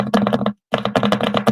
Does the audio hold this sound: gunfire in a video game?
no